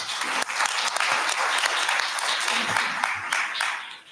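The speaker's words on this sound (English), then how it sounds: "Could you guys please give a round of applause?" Lively audience applause fills a room at a county board of supervisors meeting, dense sustained clapping with a few cheers and voices mixed in.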